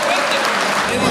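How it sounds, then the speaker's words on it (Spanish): A crowd at a Father's Day community gathering gives loud applause for the communications sector. The clapping is a brief, dense burst with voices mixed into it. "Fuerte el aplauso para el sector comunicación"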